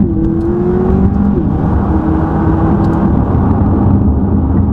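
A McLaren 540C supercar accelerating hard from a standstill, its engine rising in a loud, steady climbing drone with a whine sweeping upward, heard close and continuous.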